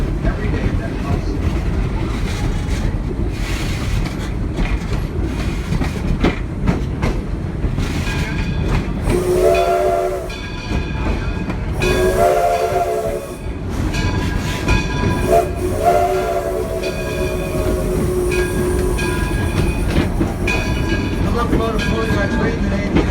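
The Edison, a steam locomotive built in 1932 in Dearborn, Michigan, rumbles and clanks along with rhythmic hissing at Greenfield Village, and its steam whistle sounds in several short blasts midway through.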